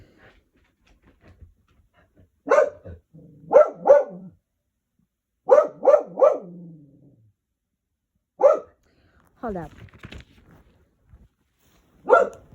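A dog barks in short bursts, single and double yelps spaced across a quiet room, fairly close, with a voice briefly speaking between barks.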